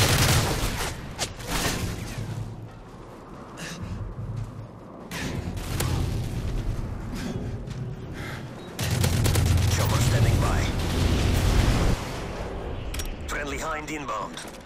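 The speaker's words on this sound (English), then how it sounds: "Friendly Predator missile inbound." A Predator missile strike and gunfire in a Modern Warfare 3 Domination match: dense bursts of shots and heavy booms, several loud impacts with brief lulls between them, over in-game radio chatter.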